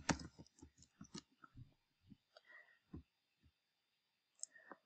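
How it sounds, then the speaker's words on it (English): Quiet keyboard typing, a quick run of soft key clicks followed by a few scattered taps with short pauses between them. "I start typing the name of the list owner."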